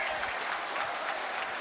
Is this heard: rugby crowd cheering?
yes